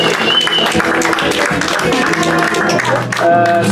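A church congregation applauds together, a steady dense wash of clapping mixed with voices and music, loud and continuous throughout.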